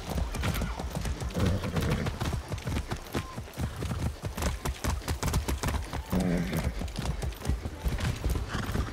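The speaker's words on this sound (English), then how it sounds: "That's a good horse." Steady clip-clop of horse hooves at a trot in the video game Far Cry 6, close and loud, with a horse whinnying midway and music playing underneath.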